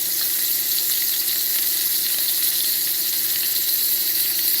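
Pot roast sears in hot vegetable or olive oil in a pan, giving off a steady, loud, even sizzle with a bright crackling hiss that holds without pause.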